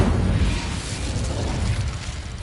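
An Incendio fire spell blasts in Hogwarts Legacy as a loud, dense rumbling burst that stays thick and roaring for about two seconds before easing slightly.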